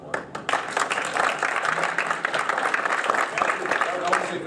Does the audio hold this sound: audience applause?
yes